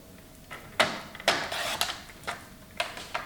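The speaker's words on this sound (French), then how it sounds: "j'ouvre mon massicot et maintenant on va venir couper à 20 cm." A paper trimmer (massicot) working on a sheet of paper for a handmade album, with several short sharp clacks and slicing swishes spaced apart, close and fairly quiet with no talk.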